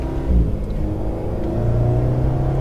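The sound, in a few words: Alpine car accelerating on a race track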